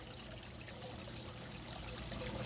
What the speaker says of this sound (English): So I actually pour the water right here on the rock.